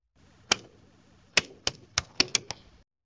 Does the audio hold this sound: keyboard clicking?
yes